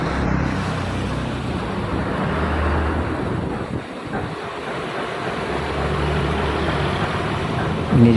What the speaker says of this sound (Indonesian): truk tangki juga lewat